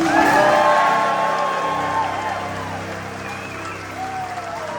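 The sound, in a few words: applause for the Sky Princess team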